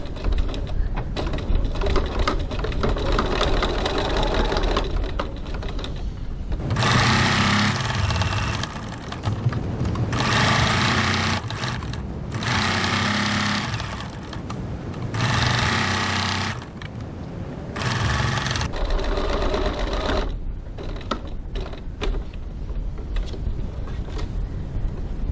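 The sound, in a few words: sewing machine stitching fabric bag seam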